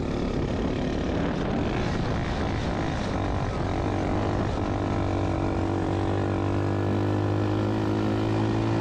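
A 110cc pit bike engine powering a go-kart, revving loud and close in a droning, buzzing tone that climbs steadily in pitch as it is held in first gear.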